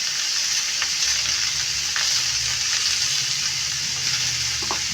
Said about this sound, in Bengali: কিছুক্ষণ একটু নাড়াই চাড়িয়ে ভালো করে ভাজার পরে তখন এখানে আমি মশলা দিয়ে দেবো